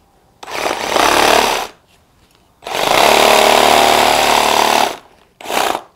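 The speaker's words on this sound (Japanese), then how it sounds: "じゃあ次は刃を戻してブラック&デッカーで同じ木を切ってみます。" Black & Decker reciprocating saw cutting through wood: three loud, close bursts of harsh buzzing motor and blade noise, the middle one longest, separated by brief near-silent pauses.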